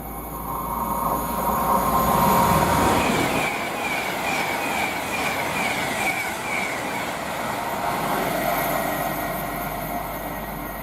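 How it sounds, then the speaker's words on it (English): A Class 390 electric train, unit 390-044, passes at speed on the West Coast Main Line at Tamworth, heading to Glasgow Central, a loud sustained rushing roar that swells and holds for several seconds, with no talk. "the next train to pass by, we have 390-044 heading to Glasgow Central"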